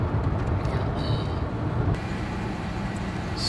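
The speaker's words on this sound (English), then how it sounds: "Stuck waiting for a train in Winnipeg." Steady low rumble of a train passing nearby in Winnipeg, continuous and heavy with rolling rail noise, no voices.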